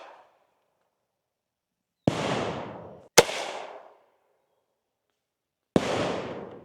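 Civilian legal grenade launcher payloads bursting downrange: three sharp, loud blasts, each with a rushing, decaying tail, spaced by silence, the middle one a crisp crack that quickly gives way to a rumble.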